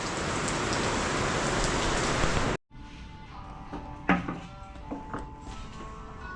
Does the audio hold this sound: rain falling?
yes